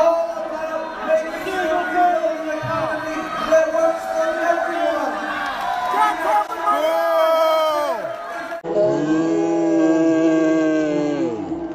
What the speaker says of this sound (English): there's a lot of boos and heckles